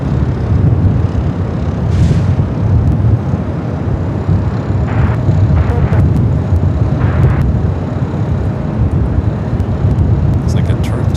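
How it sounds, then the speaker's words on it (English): A jet airliner takes off at Los Angeles airport in gusty winds, producing a continuous, heavy, low engine roar that stays loud and steady from start to finish. "Takeoff here on the north side."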